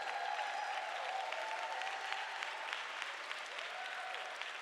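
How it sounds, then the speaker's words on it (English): A forum audience gives a warm round of applause for veterans standing in attendance. The clapping is full and sustained throughout, with a faint crowd murmur underneath. "please stand so we can give you a loving round of applause"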